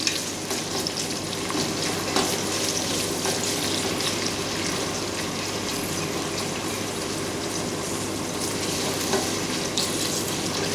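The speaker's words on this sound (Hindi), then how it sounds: "अब मैंने प्याज डाल दिया और प्याज को मैं अच्छे से गोल्डन ब्राउन करूँगी" Sliced onions sizzle steadily in a hot pan of oil while they fry toward golden brown for chicken korma, a dense, continuous crackle with occasional louder pops, close and alone.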